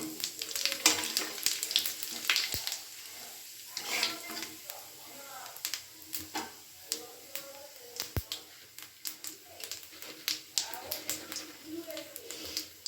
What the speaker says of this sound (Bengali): এখানে শুকনো লঙ্কা, তেজপাতা আর গোটা জিরে দিয়ে দিলাম ফোড়নে।